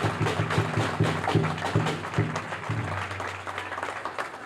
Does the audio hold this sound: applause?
yes